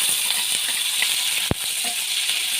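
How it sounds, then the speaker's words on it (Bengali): Cashews, chopped onion, green chillies and tomatoes fry gently in a pan with a steady soft hiss, broken by one brief clink of a utensil. "এইগুলোকে হালকা ভেজে নেব"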